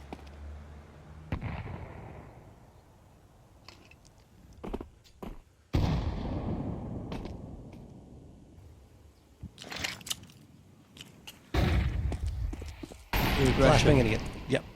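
Flashbang grenade tossed during a Counter-Strike esports match, heard as sharp game bursts and popping blasts at close range, with caster voices talking over the action.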